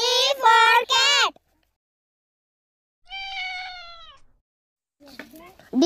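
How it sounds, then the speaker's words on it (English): A cat meows once in a children's alphabet song, a single clear, drawn-out meow lasting about a second, set between sung lines. "C for cat."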